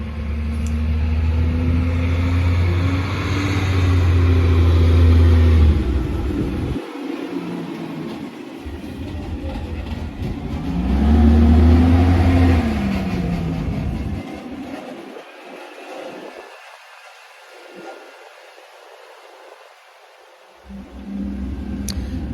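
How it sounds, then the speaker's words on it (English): A garbage truck drives past twice, its low engine rumble and rattling body swelling loud and close, fading, then returning before cutting out. "The garbage truck came right back around again."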